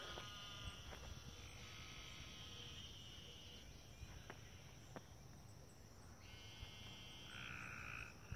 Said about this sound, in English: No, I can hear some frogs.